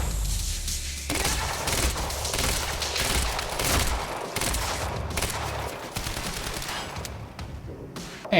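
Submachine gun fire in the video game Quantum Break rattles in loud, rapid bursts broken by short pauses, interleaved with single sharp impacts and booms in a busy firefight.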